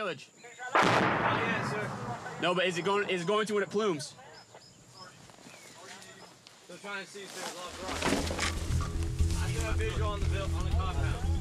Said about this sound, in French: Un obus vient de tomber sur la ferme où sont retranchés les insurgés. Puis un deuxième.